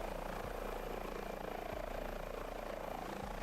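An H145 helicopter hovers in Microsoft Flight Simulator 2024 during a search and rescue mission, a steady rotor drone with a low regular pulse and a few faint thumps, no speech.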